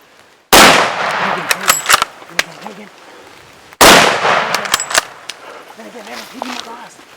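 Two loud rifle shots ring out outdoors on a hunt, about three seconds apart, each a sharp crack that rolls into a long echo, with people speaking quietly in between.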